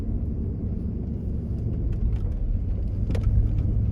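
A 1988 Ford Mustang LX 5.0 with a five-speed manual, low mileage, idles while warming up on an evening drive, a steady loud low rumble throughout with faint scattered ticks and no talking.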